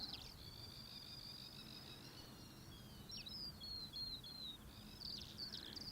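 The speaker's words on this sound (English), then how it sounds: "And the birdies are chirping away." Small birds chirp and twitter in bright, repeated bursts outdoors at an airfield viewing mound, fairly close, over a low steady rumble of background noise.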